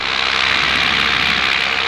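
A paramotor engine runs at steady high revs while its fuel line is pinched in a test, a loud continuous droning roar close by with no talk over it.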